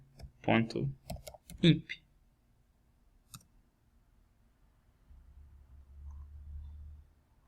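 Several quick keyboard clicks of a command being typed at a computer, with a louder burst of keystrokes early on and a single tap later, followed by a low hum.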